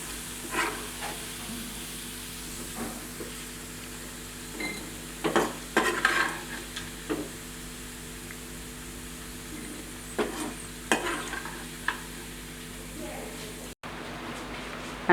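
Beef pieces for pickle fry in oil over a medium flame, a low steady sizzle with intermittent stirring scrapes and pan knocks, while a person talks over it.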